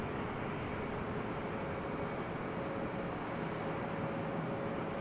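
An airliner takes off from runway 24 left at LAX, giving a steady, broad jet roar heard from a distance without any clear rise or fall.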